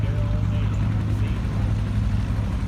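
A John Deere 60 tractor at a farm stock tractor pull, its engine wound up to a loud, steady droning roar that holds throughout, with voices faintly beneath it.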